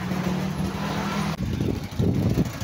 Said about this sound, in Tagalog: kinarga na natin ito sa aming tricycle at bumiyahe na kami papuntang palengke